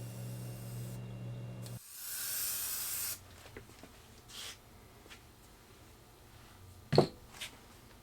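An aerosol can sprays base coat onto a model base in a few-second hissing burst, close and moderately loud, followed by quieter handling noises and a sharp click.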